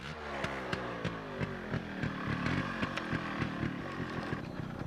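A motorcycle engine drones steadily throughout a night ride on a dark road, with a loud, continuous mid-pitched hum and rhythmic ticking bursts from close by.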